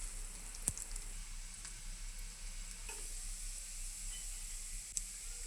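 Chopped onion and garlic frying in oil until browned produce a soft, steady sizzle at low level, with a couple of sharp clicks from stirring.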